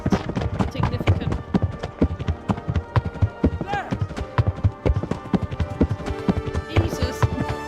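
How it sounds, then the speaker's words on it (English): Horse hooves clip-clop steadily in Kingdom Come Deliverance, a loud, close, rapid rhythm of hoofbeats running throughout, with game voices talking over it. "that horse noise is significant."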